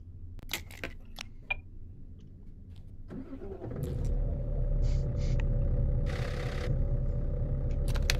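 In Euro Truck Simulator 2, a few clicks and taps, then a V8 truck engine turns over and settles into a deep, steady rumbling idle that continues loudly to the end.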